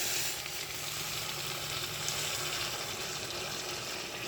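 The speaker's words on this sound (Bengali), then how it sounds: "এবার আমি যে গরম জলটা করেছি ওটা দিয়ে দিই" Hot water poured onto braised meat sizzling in oil, a loud continuous hissing sizzle heard close up and alone, with no break across the clip.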